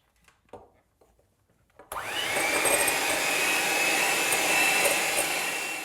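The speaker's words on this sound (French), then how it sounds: "Continuez à fouetter jusqu'à obtenir des blancs bien fermes." Egg whites and sugar are beaten until stiff. A few soft handling knocks come first, then an electric whisk starts abruptly with a loud, steady whirring whine that holds for several seconds close by.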